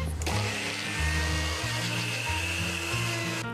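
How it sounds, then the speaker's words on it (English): A kitchen blender whirs loudly and steadily, grinding dry beef rub into a finer powder for brisket, starting abruptly and running continuously with shifting motor pitch before cutting off, with no voices. "we wanna mix it in the blender to make our rub into some finer dust."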